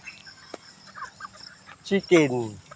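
Chickens cluck a few times at feeding time, brief and fairly close, with a person talking over them and louder voiced calls near the end.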